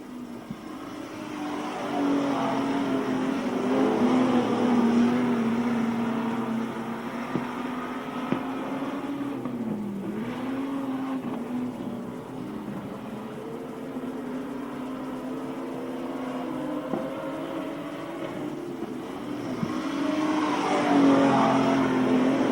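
Modified race cars roar steadily down the back straight of Timmis Speedway, a continuous loud engine drone that rises and dips in pitch as the cars go past and swell again at the end.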